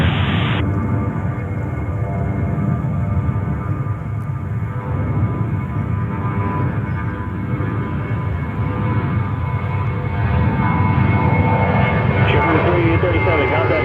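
A jet airliner powers up for takeoff on runway 13 right at JFK, a loud, steady broadband engine roar that builds and holds throughout, with faint radio chatter mixed underneath.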